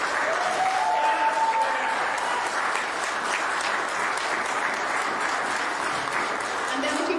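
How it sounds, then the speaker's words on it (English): A church congregation applauds in thanks, a dense, steady clatter of many hands clapping at once that holds at an even level throughout, with no talk over it. "If we can give them another clap of thanks."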